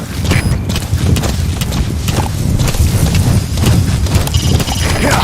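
Horse hooves clip-clop steadily at a gallop across open wilderness in Metal Gear Solid V: The Phantom Pain, a continuous loud drumming with a brief whinny-like burst near the start, backed by wind and game ambience.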